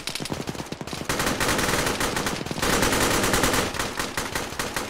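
Dense, sustained automatic gunfire from a firefight in Arma 3, with rapid machine-gun bursts near and loud, running almost continuously and swelling into heavier overlapping volleys partway through.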